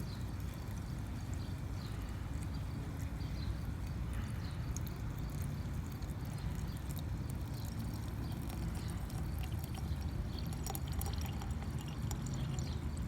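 Sprite soda poured from a 20-ounce bottle into a container holding a tiger lily flower, a steady low fizzing, splashing pour running without pause, close and fairly loud, with no talking.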